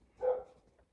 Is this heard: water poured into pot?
no